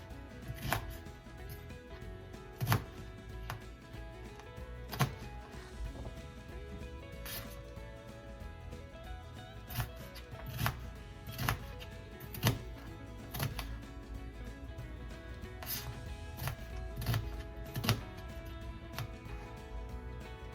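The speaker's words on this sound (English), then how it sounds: "Now I'm going to go ahead and cut the onions, big chunks as well." A knife cuts three medium onions into big chunks on a board, giving sharp, evenly spaced thuds every couple of seconds over a low room hum, close and clear with no voices.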